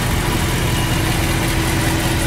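A 1974 Pontiac Grand LeMans with a 350 two-barrel V8 idles steadily close by, a loud, even low rumble with constant vibration and no one talking.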